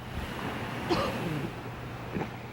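Ocean surf rolling in off the tip of Balboa Peninsula at Newport Beach, where body surfers wait for a big wave; a steady low wash with wind noise and a couple of faint swells rising, no voices.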